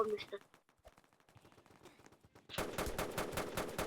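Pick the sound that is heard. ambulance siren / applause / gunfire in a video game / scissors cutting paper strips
gunfire in a video game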